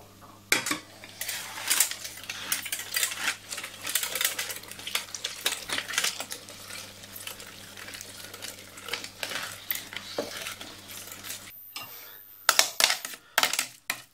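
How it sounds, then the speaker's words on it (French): A hand-cranked food mill pushing cooked vegetables through for tomato sauce, with continuous scraping, grinding and clattering metal strokes in an irregular rhythm that runs close and fairly loud before a brief pause and a few final rattles. "on prend une passoire manuelle et on va passer nos légumes"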